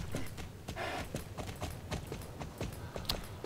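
Pony hooves clip-clop in a quick, steady galloping rhythm in the video game Star Stable Online, close and fairly quiet, with a brief soft whoosh partway through and no talking.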